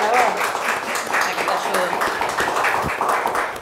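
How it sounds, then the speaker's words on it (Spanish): Steady applause from a crowd, a continuous wash of clapping with a few voices mixed in, held at an even level throughout. "aplauso"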